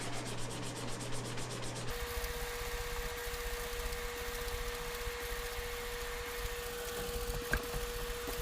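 Guitar frets being hand-sanded vertically with fine grit paper, a faint, steady scratchy rubbing held close under a constant low background hum.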